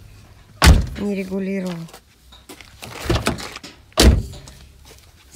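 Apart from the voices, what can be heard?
car doors closing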